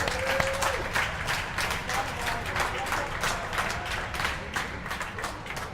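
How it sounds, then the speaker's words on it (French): Spectators applauding at a French indoor skydiving championship, sustained dense clapping from a sizeable crowd in an echoing hall, with someone speaking over it. "Vous les applaudissez."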